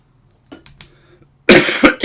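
A person gives a few faint, small throat sounds, then breaks into two loud, harsh coughs close to the microphone, alone without speech.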